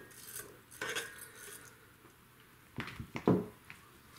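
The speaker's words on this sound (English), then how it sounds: "You'll give this a little mix." Rice and water stirred in a rice cooker pot with a utensil, giving a few sparse scrapes and clinks up close, with a louder cluster of knocks near the end.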